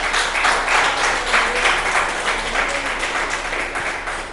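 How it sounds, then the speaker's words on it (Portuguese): Church congregation applauding the Lord during a worship service, a steady, dense roomful of clapping that holds evenly throughout with no voices on top. "Então aplaude o Senhor."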